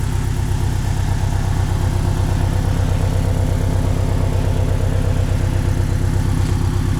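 A 2019 Porsche 718 Boxster S flat-four engine idles nearby with a steady, lumpy low rumble and even rhythmic pulses, no speech.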